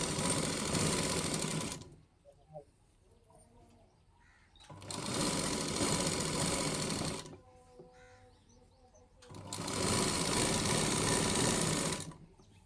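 A sewing machine stitches piping onto a blouse lining in three steady bursts of rapid, close whirring, separated by quiet pauses with faint handling noises.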